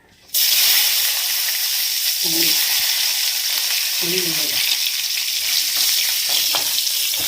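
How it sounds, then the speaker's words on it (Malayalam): Chilies, onion, tamarind and curry leaves frying in coconut oil for a chutney, a loud sudden hiss that settles into a steady close sizzle, with a few brief voice sounds over it. "വെളിച്ചെണ്ണയിൽ മുളകും ഉള്ളിയും പുളിയും കരിയാപ്പിലും എല്ലാം കൂടി ഇട്ട് മൂപ്പിക്കുന്നത്"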